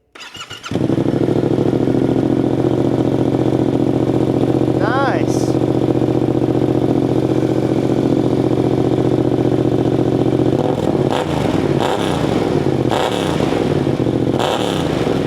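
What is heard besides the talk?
motorcycle engine starting and running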